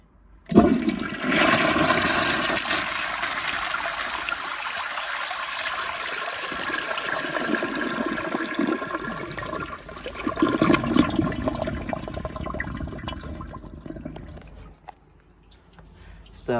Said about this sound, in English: I'm gonna move the tripod and give you a close-up flush.